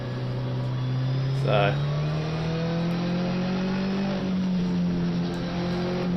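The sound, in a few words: race cars on formation lap in Assetto Corsa Competizione video game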